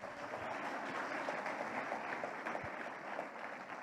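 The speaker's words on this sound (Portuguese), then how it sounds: "Bata palmas em espanhol." A church congregation claps together during a Portuguese-language communion service, steady dense applause filling the space at a fairly quiet level with no talk over it.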